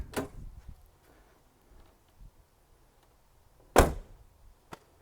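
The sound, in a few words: car back door closing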